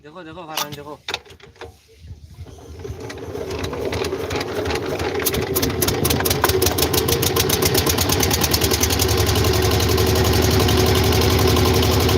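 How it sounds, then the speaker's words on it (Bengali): An engine-driven passenger ferry boat on the Surma river idles with a loud, rapid mechanical chugging that builds steadily and holds, with a few knocks and voices faint at the start. "এখানে ইঞ্জিন চালিত নৌকা রয়েছে, যেটা মানুষের পারাপারের জন্য আমরা আপনাদেরকে দেখাচ্ছি"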